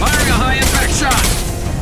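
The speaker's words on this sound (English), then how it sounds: "Firing a high-impact shot!" A high-impact weapon shot in the sci-fi action game Mass Effect 2 lands as a loud, dense blast with a metallic whine. It runs into a brief, steady rumble with no pauses, with a voice partly over it.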